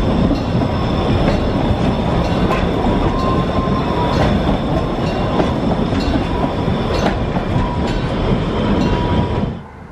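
Narrow-gauge passenger train on the Weißeritztalbahn, with an open carriage in summer, rumbling past loud and close with rhythmic clickety-clack and faint wheel squeal, then cutting off abruptly at the end.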